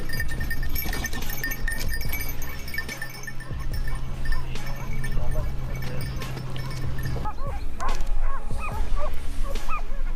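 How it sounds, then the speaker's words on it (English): A pack of hunting dogs in a forest barks and yips at a wild boar. The barks are loud, rapid and overlapping, with whimpers and yelps mixed in over continuous background noise. "They bark and distract the boar, keeping it occupied."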